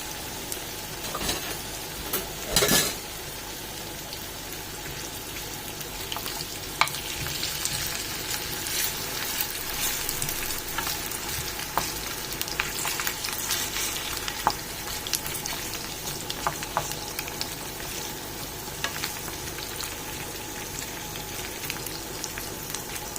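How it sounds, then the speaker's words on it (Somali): Continuous dense sizzling of potatoes frying in oil, with a few louder pops and clinks along the way, close and unbroken. "marka baradhada waa inaan marka hore shiilo."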